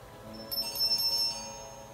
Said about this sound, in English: How come that bell looks like a brush?